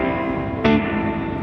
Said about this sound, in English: this one is called tremolo. So just switching the light sensors on and off